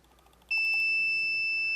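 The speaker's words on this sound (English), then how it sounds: "we get a very nice sound saying I tried too many times. And this actually activates all the alarms." A CCTV system sets off its alarm after too many failed login attempts: a short soft tone, then a loud steady electronic beep that starts suddenly and holds on, close and alone.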